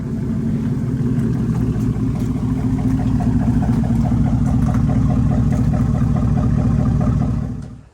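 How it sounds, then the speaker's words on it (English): A car's engine runs loud and close as the car pulls away, holding a steady droning rumble before cutting off sharply at the end. "let's go ahead and take this thing for a drive, see how Betty feels with the new rear brake"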